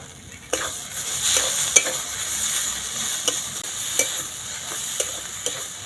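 A sweet sugar filling with pepper and chilli powder is stirred in a pan over a steady sizzle, with spatula scrapes and taps recurring every second or so.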